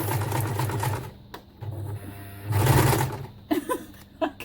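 A home sewing machine runs in bursts, stitching slowly then speeding up abruptly, with pauses between runs and faint handling noises near the end.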